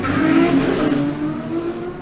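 A race car at the Jaguar Simola Hillclimb launches after a double-clutch blip, its engine revving hard in a loud, close, throbbing growl that climbs and then eases slightly.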